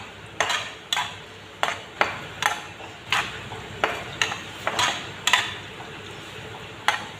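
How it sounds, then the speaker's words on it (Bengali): A spoon scrapes and clinks steadily in a pan as boiled peas and ridge gourd are stirred together without any added water. The strokes are regular and close, under a soft sizzle. "সব একসঙ্গে মিশাই লইয়া মটরশুঁটি আর সবজি।"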